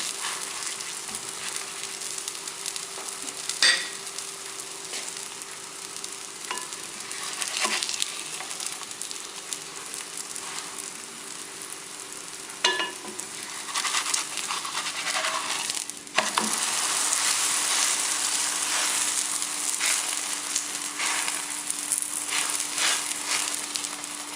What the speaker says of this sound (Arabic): نديرو المسمن ديالنا يطيب وحنا ندرسو بطبيعه الحال في المقله